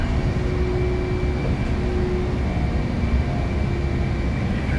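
An L-1011 TriStar jet accelerating on its takeoff roll in a flight simulator, a steady loud engine roar with a sustained whine, continuous and unbroken with no voices.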